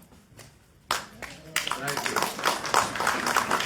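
An audience at a town mayoral debate in Hamden bursts into applause. Clapping starts abruptly and builds to a dense, sustained sound across the room, following a brief spoken word.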